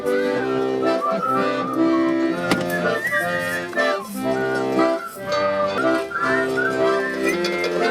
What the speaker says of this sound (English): Everybody has to whistle for that.